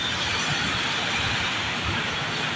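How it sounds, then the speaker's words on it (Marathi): A Mumbai metro train rumbles and hisses steadily throughout, a constant close rolling noise heard from inside, with no talking. "आता आम्ही बरोबर ट्रेनमध्ये बसलो आहे"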